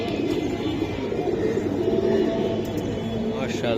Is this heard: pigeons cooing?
yes